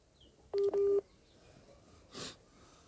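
Two brief, bright telephone tones sound back to back from a call dropping, followed by a soft breathy noise against a quiet background hiss.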